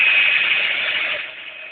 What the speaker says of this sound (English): give it a blast again with my heat gun and just warm that glue back up